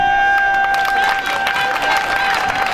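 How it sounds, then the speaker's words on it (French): A crowd applauds and cheers at a PDG political campaign rally in Gabon, a dense, loud, continuous wash of clapping with a steady tone running underneath. "Applaudissez"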